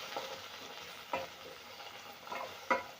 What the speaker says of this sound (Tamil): இப்போ நம்ம கட் பண்ணி வச்சுருக்க சௌசௌ காய் சேர்த்து நல்லா வதக்கி விட்டுக்கலாம்.